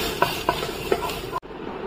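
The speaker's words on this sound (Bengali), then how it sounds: "এতে আমি দিয়ে দিচ্ছি রসুনটাকে একটু থেতো করে নিয়েছি" Crushed garlic hits hot oil in a pan and is stirred, giving a steady sizzle with a few soft scraping knocks before the sound cuts off abruptly.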